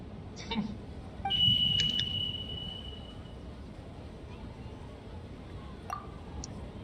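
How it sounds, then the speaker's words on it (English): A single short, thin electronic beep from Genshin Impact sounds once against a low, murky background hum, followed by a few faint clicks. "There was definitely a beep"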